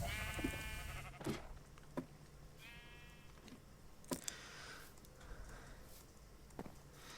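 Sheep bleat in a Minecraft-style video game, several short wavering calls scattered among soft clicks and footsteps, fairly faint and without talk.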